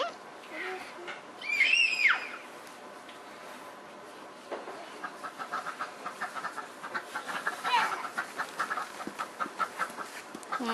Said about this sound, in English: I hear the ducks.